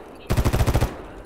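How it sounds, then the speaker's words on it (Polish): Rapid burst of automatic gunfire in the video game STALKER GAMMA, about eight evenly spaced loud shots in under a second, starting abruptly after near silence. "on strzela w Leszkę"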